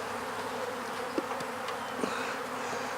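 Honeybees droning steadily inside a weak, failing beehive opened for a winter inspection, a close continuous buzz with a couple of brief knocks or clicks from handling the frames, no talking.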